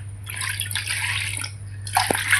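Water poured from close by into a bowl of samosa dough ingredients with carom and cumin seeds, a steady splashing stream with a couple of small drips near the end, under a constant low electrical hum.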